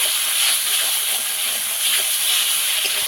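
Spice paste of turmeric and chili powder with a little water sizzles and hisses loudly in a hot pan. The steady frying crackle keeps a bright, continuous hiss without a break.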